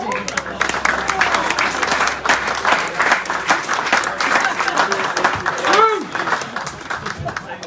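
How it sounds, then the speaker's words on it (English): A club audience gives sustained, steady applause for a new player being introduced at a kit launch and meet-the-players evening, with a few voices and shouts rising over the clapping throughout. "Can you give a nice gentle clap, please, for our shy and retiring Jack Headley."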